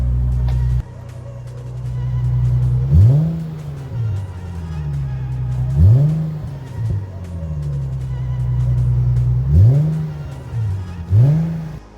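Nissan G37/370Z exhaust on a cold start, a steady loud idle broken by about five sharp revs that climb and drop back, spaced a few seconds apart.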